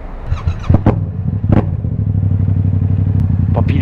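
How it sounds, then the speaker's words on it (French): An old moped-style motorcycle engine revs in a few sharp bursts, then settles into a loud, steady buzzing drone close by, with a few clattering knocks along the way. "Il fait rugir le moteur, carrément."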